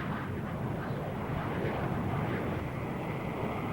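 Planes come in to land on an aircraft carrier during NATO maneuvers, producing a steady, loud roar of engines and wind that holds without a break from start to finish, with no voices.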